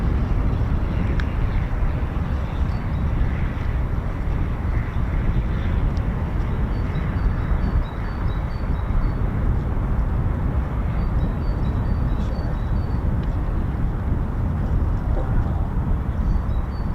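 F-15 and F-35 fighter jets taking off together at RAF Lakenheath, a steady loud broadband engine roar heard from a distance, sustained and even throughout with wind noise and no clear speech.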